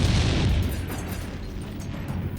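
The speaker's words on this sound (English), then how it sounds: "American tanks were shooting on us." Tank cannon fire and explosions in a WWII documentary about the Battle of the Bulge, a loud booming burst that rumbles and fades into a low roar.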